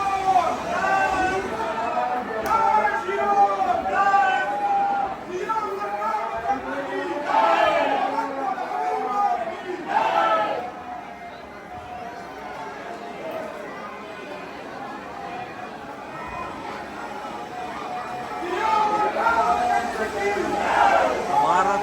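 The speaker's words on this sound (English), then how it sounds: "So much crowd." A dense crowd chatters and calls out at the Ayodhya Ram Mandir, a steady babble of many voices with louder surges of shouting, fairly close and continuous throughout.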